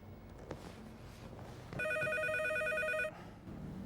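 A telephone rings in one loud, steady burst of about a second and a half, standing out clearly over quiet indoor room tone in a domestic drama scene.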